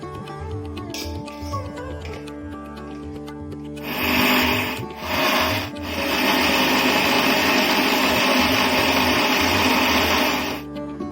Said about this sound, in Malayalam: ഇതുപോലെ മിക്സി എടുത്ത് അതിലേക്ക് തേങ്ങ ഇട്ട് നല്ലതുപോലെ ഒന്ന് അരച്ചെടുക്കാം